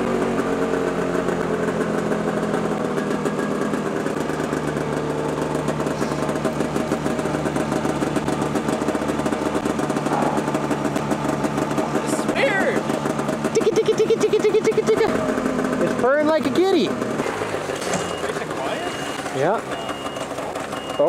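A brand new Arctic Cat snowmobile engine runs steadily nearby with a buzzing idle, and people talk over it intermittently.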